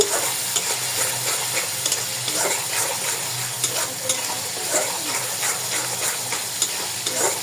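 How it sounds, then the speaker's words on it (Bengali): Spice paste fries in oil while being stirred, a steady close sizzle with scraping strokes of a spoon against the pan recurring in an uneven rhythm. "এবার ভালো মতো কষিয়ে নেব।"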